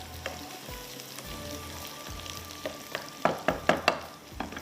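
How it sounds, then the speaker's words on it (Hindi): Garlic fries in a pan with a steady, close sizzle, broken near the end by a quick series of clinks and scrapes from a wooden spoon stirring. "लहसुन जब फ्राई कर रहे हो तो बड़ी अच्छी खुशबू आती है।"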